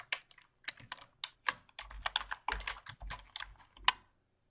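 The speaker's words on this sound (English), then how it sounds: "I'm going to type in all about" Keys clatter on a computer keyboard as a title is typed into a presentation slide: close, irregular bursts of taps with brief pauses, alone and free of talk.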